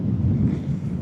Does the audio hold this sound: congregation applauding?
no